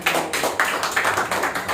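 A church congregation applauds, the claps falling in quick, rhythmic bursts that fill the room briefly and loudly, with no talking.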